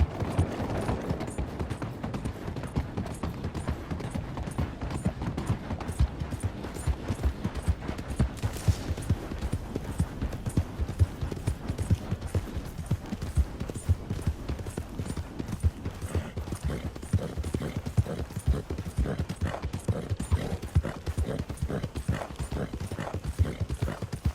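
Continuous rhythmic clip-clop of horse hooves at a steady gallop in the video game Red Dead Redemption 2, close and prominent, with faint rumbling in the background.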